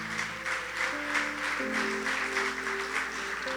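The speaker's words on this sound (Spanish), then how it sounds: "Dale un fuerte aplauso al Señor" A church congregation claps in a dense, steady wash of applause, with sustained organ or keyboard chords ringing beneath it the whole time.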